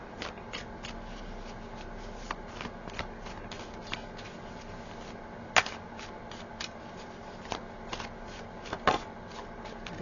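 Tarot cards shuffled by hand, a run of quick crisp riffles and snaps close by, with a few sharper slaps standing out, no voices.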